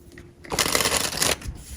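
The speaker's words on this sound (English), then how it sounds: "I'm just going to shuffle a couple of these decks" Decks of cards being shuffled in a quick riffle, a brief crisp burst of fluttering clicks lasting about a second, close and clear after a quiet start, with no talk.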